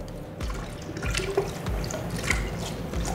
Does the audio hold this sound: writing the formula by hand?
no